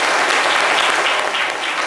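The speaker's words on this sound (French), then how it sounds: "Applaudissements pour Richard, s'il vous plaît." Studio audience at a live call-in show claps for a caller, a short burst of loud, dense applause filling the whole moment.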